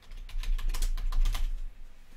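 Quick, close typing on a computer keyboard, a steady run of light clicking keystrokes for about two seconds with no voices.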